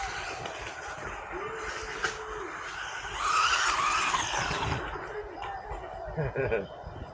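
An RLARRLO AM-D12 RC car drives on pavement, its motor whining and tires squealing in a rising screech midway, with people chattering nearby throughout.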